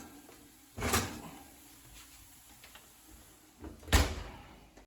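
An oven door closes after a cast iron roast turkey goes in, heard as two distinct thuds a few seconds apart against a quiet kitchen background, the second slightly heavier.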